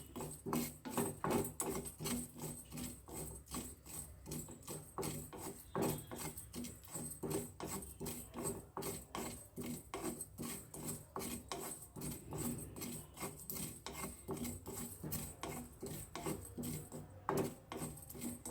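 Fenugreek seeds, about eight to ten of them, dry-roasting in a pan give a steady stream of dense, rapid scraping and rustling strokes, close and fairly loud, running continuously without any talk.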